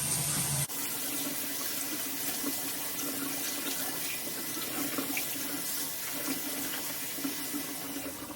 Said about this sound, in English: my secondary drain right here creates a splashing sound